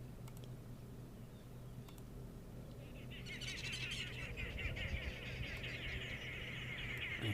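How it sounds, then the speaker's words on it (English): Arrow-marked babblers call outdoors, with sparse chirps early on and then a louder, dense chattering chorus building from the midpoint over a low background hum. "You can hear the Aramark babblers."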